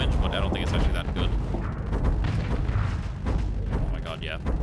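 Twin-linked cannons firing in the space combat game Starsector, a dense rumbling barrage of repeated booms and thuds, steady throughout, with a voice talking over it.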